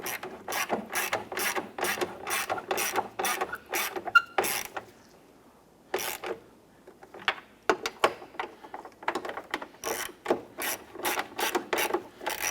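A hand ratchet clicks in quick, regular bursts while snugging down the side mirror mounting nuts on a 1994–2004 Chevrolet S-10, with a short pause midway before the rapid clicking resumes, close and alone.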